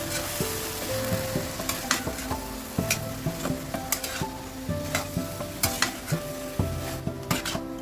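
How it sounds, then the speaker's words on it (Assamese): Taro leaves and tomato are stirred in a pan for an Assamese taro-leaf dish, with steady sizzling and repeated close scrapes and clinks of a spoon against the pan, heard alone. "কচু আৰু বিলাহীখিনি মিক্স কৰি ল'ব।"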